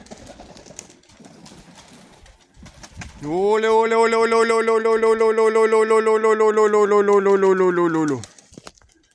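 A loud, sustained harmonic call from a pigeon rings out for several seconds after brief background noise, a drawn-out coo, close by.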